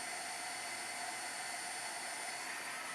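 A heat tool blows steadily to dry a watercolor painting made for cardmaking, an even whooshing hiss that stays loud and close, with no talk.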